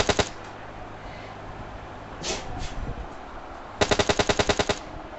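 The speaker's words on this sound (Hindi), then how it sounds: "शॉट्स फायर हुए हैं" Automatic gunfire in a video game match: a short burst at the start, a couple of faint distant pops midway, then a rapid, evenly spaced burst of about ten shots near the end.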